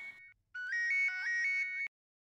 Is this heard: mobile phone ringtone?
yes